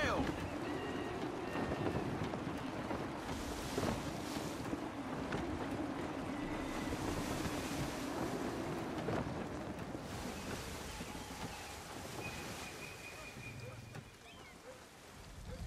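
Sailing ship on open water in gusty wind in the Assassin's Creed 3 video game, with a steady low rush of wind and water, creaking and occasional bird calls, and a game voice speaking over it.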